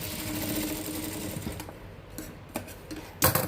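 A sewing machine stitches a pocket onto pants, running in a fast steady whir up close before slowing and stopping, followed by a few scattered clicks and handling knocks.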